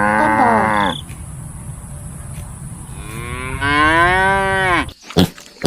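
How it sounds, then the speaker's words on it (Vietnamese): A cow gives two long, loud, close moos, the second swelling and falling away, over a steady background hiss. "Con bò"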